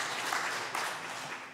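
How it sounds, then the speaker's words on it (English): Brief applause from a church congregation during a Sunday morning service, a steady wash of hand claps from a moderately distant crowd with no talking over it. "Let's give him a clap."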